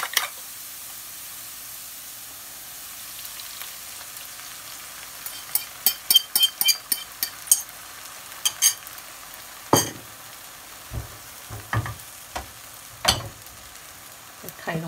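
Potatoes fry in a pan for a potato omelette, giving a low steady sizzle with a run of sharp crackles and pops midway, then scattered louder spits and stirring clatters toward the end, with no voices.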